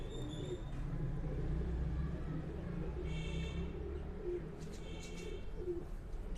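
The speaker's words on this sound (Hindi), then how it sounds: "माशाल्लाह दोस्तों भाइयों को बड़े पसंद आएंगे ये कबूतर।" Sialkoti breed pigeons coo softly in a loft, low murmuring calls over a steady rumbling background, with a few faint chirps from other birds.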